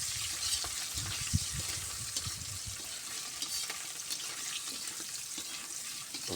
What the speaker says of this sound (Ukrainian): Обжарюємо його.